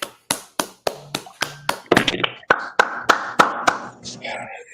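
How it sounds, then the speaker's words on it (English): Sharp, close hand claps in a steady rhythmic beat, joined midway by several more people clapping together while voices chant or talk underneath. "Clap it up."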